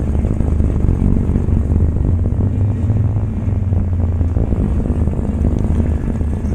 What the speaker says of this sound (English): Apply the brakes here, get these engines really cranking. Both sides, hear them rev.